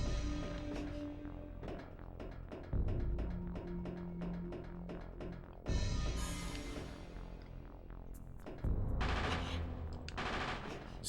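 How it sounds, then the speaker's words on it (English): Rapid bursts of gunfire rattle in the futuristic bike racing game Extreme-G on the Nintendo 64, with several loud volleys over a steady engine drone and music, sharpening at a few points as new bursts begin. "Dracula's guns are shooting me."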